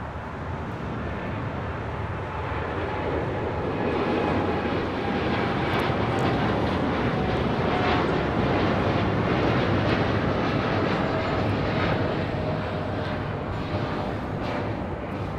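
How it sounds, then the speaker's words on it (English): An American Airlines Boeing 787-8 Dreamliner jet takes off from runway 25 right at LAX, its engines a loud, steady broadband roar that holds strong and swells slightly throughout, with no talk over it. "This is American Airlines Flight 27 taking off to Tokyo Haneda on a 787-8 Dreamliner"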